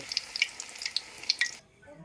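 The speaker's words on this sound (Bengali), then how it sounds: "এভাবে একটা একটা করে দিয়ে উল্টে পাল্টে আমি বেশ সুন্দর করে একটু লাল লাল করে ভেজে তুলে নেব।" Patol (pointed gourd) chops frying in oil make a soft crackling sizzle with scattered pops, which cuts off abruptly near the end.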